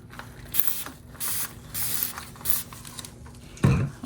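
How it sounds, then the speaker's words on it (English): Short bursts of alcohol sprayed from a handheld spray bottle onto a copper-colored piece while marbling a plate stand, several quick hissing puffs in an otherwise quiet space, followed by a louder bump near the end. "but I need to spray this with alcohol."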